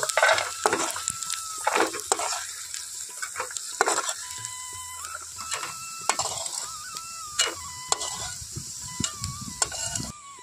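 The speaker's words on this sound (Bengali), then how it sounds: "এখন আমি কয়েকটা শুকনো লঙ্কা এখানে দিয়ে দিচ্ছি, দিয়ে খুব ভালোভাবে ভেজে নেব।" Dried chillies sizzle in oil in a pan while a utensil repeatedly scrapes and knocks against the metal in an uneven stirring rhythm.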